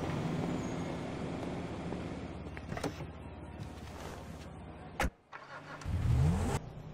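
A Zentorno hybrid sports car in GTA 5 accelerates hard with a loud, continuous engine roar, a sharp break near five seconds like a gear shift, then a rising rev before it cuts off.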